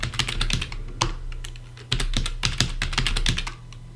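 Fingers tapping out a new password on a computer keyboard, quick irregular clicks in short bursts with brief pauses, close and clear.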